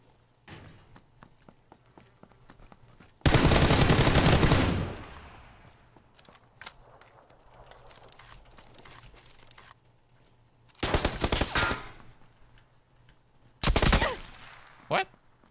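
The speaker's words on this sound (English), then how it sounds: "Where's he shooting me from?" Gunfire in PUBG on the Sanhok map: three separate loud bursts of rapid automatic fire, with the longest burst first, among scattered fainter distant shots and thuds in a quiet, spacious gap between them.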